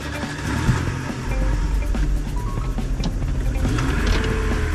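Car engine driving through a city, a steady close-up rumble inside the vehicle with mechanical hum and small rattles throughout.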